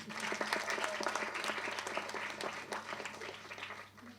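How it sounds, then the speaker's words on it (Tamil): A seated school audience applauds steadily at a school movie audio launch event, dense clapping that fades toward the end, with a faint voice underneath. "கைத்தட்டுங்க அவங்களுக்கு."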